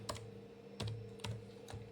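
Fingers type on a computer keyboard, several quiet separate keystrokes ticking at an uneven pace, close and soft, with no talk.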